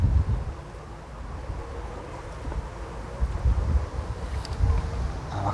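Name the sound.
wind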